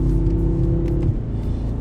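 BMW M6 Gran Coupe engine pulling hard under acceleration, a deep steady rumble and drone close by that eases slightly near the end.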